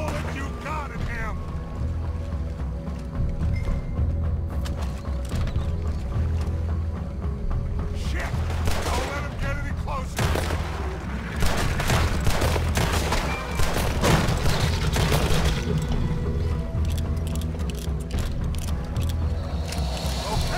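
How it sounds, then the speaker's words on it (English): Dense gunfire rattles in Red Dead Redemption 2 over a loud, busy game soundscape, with many rapid overlapping shots and some voices shouting between them. "Put every bullet you got in him!"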